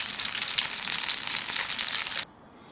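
Potato patties frying in a pan at a campsite, a dense steady sizzle that cuts off abruptly near the end.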